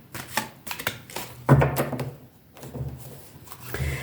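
A deck of tarot cards being shuffled by hand gives a series of quick papery riffles and soft taps in irregular bursts, close and moderately loud, with no speech.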